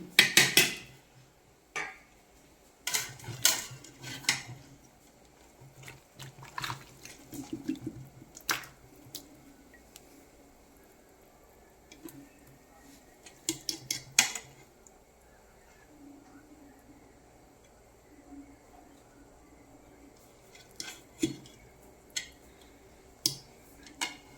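Chicken being scooped from a pot for frying: scattered metallic clinks, scrapes and drips of a spoon against the pot, irregular and close, with quieter stretches between.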